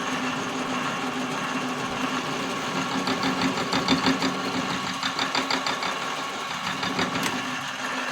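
Thread cutting on a manual lathe making a metal drawbar, a steady machine hum with a rapid rhythmic chatter of the tool on the metal, fairly close and alone.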